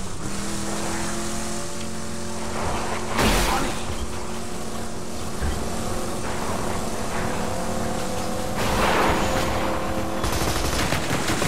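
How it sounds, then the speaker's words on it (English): A gun-mounted vehicle drives in Borderlands 2: a loud, steady engine drone runs throughout, with sharp bursts of gunfire and tire noise cutting through in places. "let's get a vehicle to transport us"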